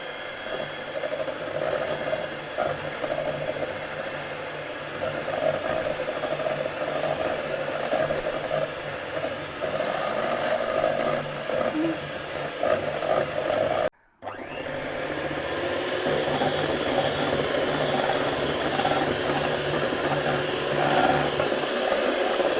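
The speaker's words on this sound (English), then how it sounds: "up for 2 to 3 minutes on a medium to high speed with the electric mixer" An electric mixer whisks crustless pumpkin pie batter at medium to high speed with a steady, loud, close whirring drone. It cuts out briefly partway through and then resumes, with no talking.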